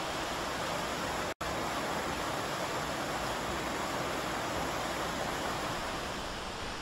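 Water rushes steadily at Otter Falls, where a waterfall and river give a constant broadband roar with one brief dropout, and no voices are heard.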